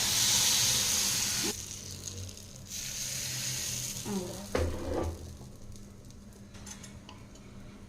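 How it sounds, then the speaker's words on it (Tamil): Appam batter ladled into a hot appam pan: a loud steady sizzle and hiss at the start that drops back to a quieter crackle, with a couple of soft clatters, heard close up. "இந்த மாதிரி குளிக்கரண்டியில் ஒரு ஒன்றரை கரண்டி ஊற்றினோம்னா சரியாக இருக்குங்க டக்குன்னு இந்த மாதிரி ஊற்றிட்டு அப்படியே எடுத்து பார்த்தீங்களா"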